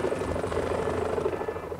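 Helicopter in the video game Evil Genius, a low steady rotor drone with a faint rhythmic chop, moderately quiet and continuous without talk.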